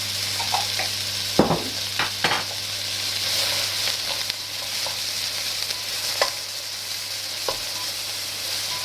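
Garlic fries in a pan for pineapple chicken, a continuous close sizzle with occasional clinks and scrapes of a utensil stirring, no one talking.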